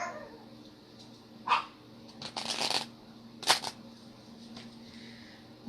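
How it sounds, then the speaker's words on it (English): A deck of oracle cards is shuffled by hand in a quiet room. Soft riffling stretches run between a few sharper, louder bursts, close and intermittent, with no voices. "I'm going to shuffle a different way."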